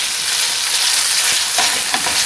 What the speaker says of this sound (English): Got a nice sizzle to it.